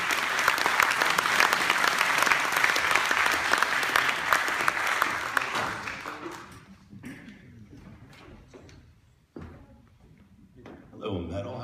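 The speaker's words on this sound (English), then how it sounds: "big warm round of applause" An audience at a presentation gives a loud, dense round of applause for a presenter, sustained for several seconds before thinning out into scattered claps and fading, with a voice speaking over the end.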